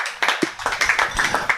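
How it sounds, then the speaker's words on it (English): A small group at a business talk night claps briefly, a handful of sharp, uneven claps close by, sparse rather than a full ovation. "round of applause to that"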